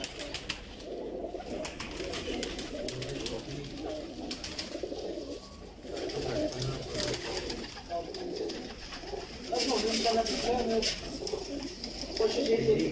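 Pigeons cooing repeatedly in low, soft throaty calls, with steady background noise and a few flutters throughout.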